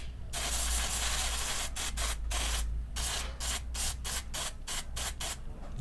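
Aerosol cleaner sprayed onto a spring-loaded part of a Honda PCX 160 scooter during home maintenance: a long steady hiss followed by a series of short rapid bursts, close and loud, with no talking.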